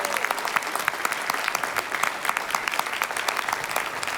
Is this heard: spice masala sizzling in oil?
no